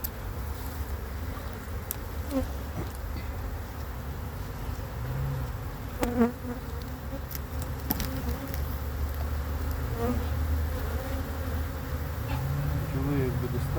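Honey bees buzz in a dense, steady drone inside a hive being expanded with plastic foundation frames, a close, continuous hum with faint scattered knocks and no talking.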